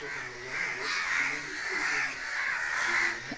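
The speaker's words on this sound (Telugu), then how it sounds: "కాకులు చూడండి ఇన్ని కాకులు వచ్చాయా ఒక్క కాకి కోసం" A flock of crows calls in a steady stream of overlapping caws, loud and close, filling the whole stretch with no voices over them.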